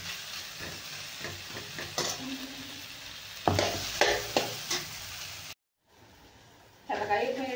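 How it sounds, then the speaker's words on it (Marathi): Eggplant and tomato fry in oil with spices, giving a continuous sizzle broken by scraping stirs of a spoon in the pan, close and fairly soft, with a brief silent break before the stirring resumes. "वांगे मस्त असे आपल्याला थोडेसे तेलामध्ये असं परतायचं आहे मसाल्यात।"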